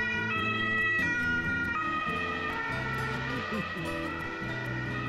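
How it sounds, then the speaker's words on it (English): An ambulance siren wails while the vehicle cruises down a street in Europe, its rising and falling tones loud and close, with traffic noise beneath. "an ambulance cruising down the street"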